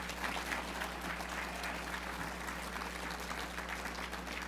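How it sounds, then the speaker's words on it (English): An audience applauds at a leadership conference breakfast, steady dense clapping filling the room at moderate distance with no voices over it. "John Gizzi, ladies and gentlemen, one more round of applause, would you please?"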